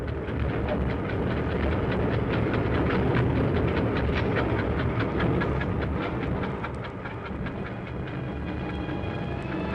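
A diesel train on the French SNCF railway rumbles steadily along the rails with a dense, continuous roar and rapid clicking of wheels over track joints, close and loud throughout.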